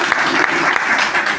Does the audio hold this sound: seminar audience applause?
yes